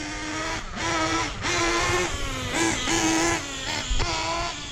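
A Hobao Hyper VS2 nitro RC buggy engine at full throttle during break-in, a loud, close, high-pitched buzzing whine that rises and dips in repeated bursts, with no one speaking.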